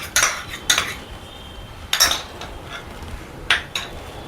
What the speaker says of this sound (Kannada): ಮಿಕ್ಸ್ ಮಾಡ್ಕೊಳ್ಳಿ ಚೆನ್ನಾಗಿ.